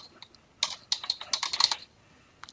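A title is typed on a computer keyboard. A quick, close run of clicking keystrokes lasts about a second, and a couple of isolated key taps come before and after it in a quiet room.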